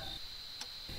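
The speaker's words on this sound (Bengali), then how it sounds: "ব্যাকগ্রাউন্ডে ঝিঝি পোকা ডাকছে" Crickets chirp in the background of a rural Bengal night with rain falling, a steady faint high trill running through the short stretch alongside a low rumble.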